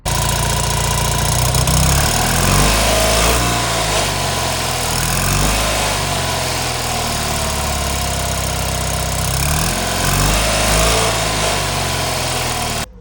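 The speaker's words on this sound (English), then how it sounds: "let's see what the standard exhaust sounds like" Classic Fiat 500 F with its standard exhaust idling close by, a steady, slightly uneven putter with a light, busy rhythm that runs continuously until it cuts off at the end.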